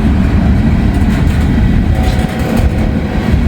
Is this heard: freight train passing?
yes